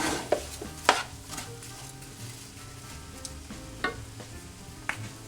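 Japanese curry ingredients, ginger, garlic, onion and mushrooms, stir-fried over high heat in a pan, giving a steady close sizzle broken by several sharp scrapes and knocks of a utensil against the pan.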